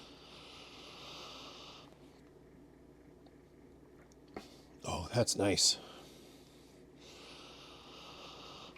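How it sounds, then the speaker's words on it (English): A person leans in and sniffs a glass of amber ale brewed with Weyermann CaraRed malt, giving a short cluster of loud, close nasal snorts and inhales in the middle, with quiet speech around it. "So let's go in here for a sniff."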